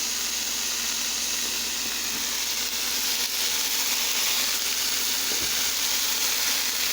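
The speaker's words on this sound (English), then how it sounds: "this is the finished sausage cooking." Homemade sausage frying in a pan gives off a steady, dense sizzle with occasional faint pops, close and continuous throughout with no talking.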